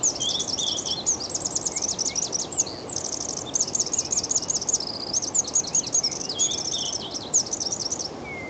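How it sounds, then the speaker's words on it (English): Recorded birdsong, likely two birds, as a series of high, rapid chirps and trills repeating throughout, clear and fairly close over a steady low background hiss, with no talk. "Is it one bird or two birds? Probably two birds."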